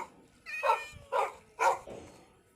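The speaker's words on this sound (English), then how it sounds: "Let's spawn one dog over here." Minecraft dogs bark three times in short, evenly spaced yips, close and clear against a quiet background.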